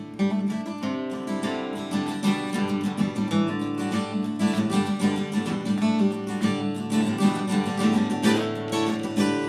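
A strummed D-shaped guitar chord played high on the neck rings out with bright, shimmering upper notes, sustained and repeated continuously.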